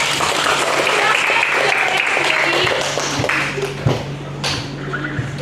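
A classroom full of people clapping steadily for several seconds after group presentations, the applause thinning out toward the end.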